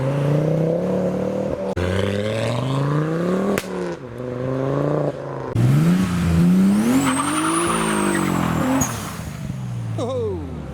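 A car pulls away from a car show meet, its engine revving hard through rising gear changes with a brief tire squeal, loud and close, then fading as it drives off.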